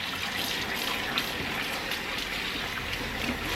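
Tap water runs at a kitchen sink while a still-warm 12-inch Lebof five-ply stainless steel pan is cleaned of rice starch, a constant close hiss and splash with no talk.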